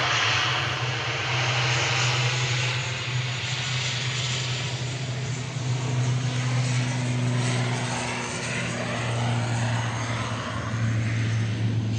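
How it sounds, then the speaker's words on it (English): An Aer Lingus Regional jet takes off from Manchester Airport, bound for Dublin, with a loud, steady engine roar and a low hum holding throughout, fairly close and without speech. "EIHNA departing there for Aer Lingus Regional back to Dublin with flight 3323."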